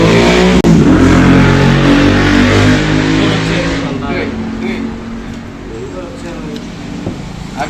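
A vehicle fitted with a modified, aftermarket silencer revs loudly and close by, its throaty engine roar swelling then easing off into a lower rumble, with voices talking over it.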